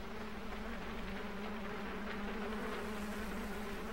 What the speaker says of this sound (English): I got some bees or something.